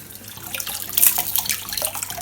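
Tap water runs and splashes over lemongrass stalks held under the faucet while they are rinsed in a kitchen sink, a close continuous wet spatter that rises and falls as the stalks move.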